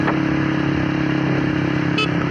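A Suzuki Satria FU motorcycle, fitted with new clutch plates, holds a loud, steady, buzzing engine drone throughout, with a brief higher-pitched squeal near the end.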